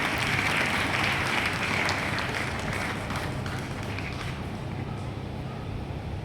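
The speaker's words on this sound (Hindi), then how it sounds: "जोरदार तालियां इन सब के लिए बजा दें।" An audience at a Gandhi Jayanti school program in Kaimganj applauds steadily for several seconds. The dense, continuous clapping fades slightly toward the end, and no one speaks over it.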